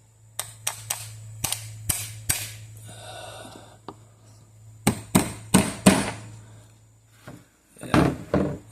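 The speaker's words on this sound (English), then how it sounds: "this is going to need a little bit of tapping." Sharp, loud taps hammer on a metal part of a 1980 Pioneer CT-F1250 cassette deck during servicing for reel table stalling, coming in quick uneven bursts of several strikes each with short pauses between.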